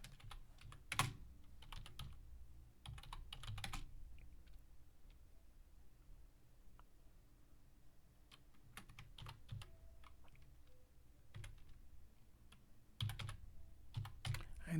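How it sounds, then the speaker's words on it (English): Typing on a computer keyboard, close-up clusters of quick clicking keystrokes in uneven bursts separated by quieter pauses, faint room noise beneath. "let me just type this one in."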